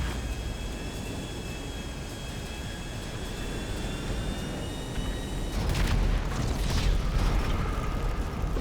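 A jet airplane in the GTA V video game roars with a steady engine drone and thin high whine, swelling into a louder, rougher rush in the final seconds; no one speaks.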